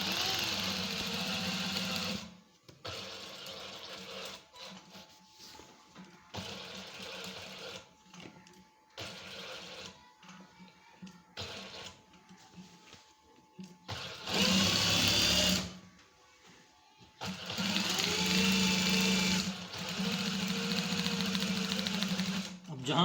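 Sewing machine stitching a shirt collar, running in steady bursts of needle clatter that stop and start, with a longer louder run near the end; a voice talks between and over the stitching.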